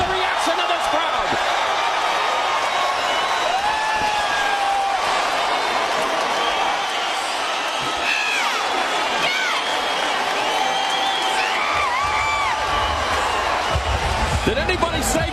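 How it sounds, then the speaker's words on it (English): An arena crowd at a kickboxing event roars and cheers after a knockout, a loud sustained wall of shouting and whistles with excited voices, and commentary over the top. "Listen to the reaction of this crowd."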